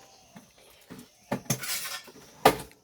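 A metal plate being handled and rubbed with oil, with close scraping and clattering clanks in irregular bursts, one sharp metallic knock near the end, no voices.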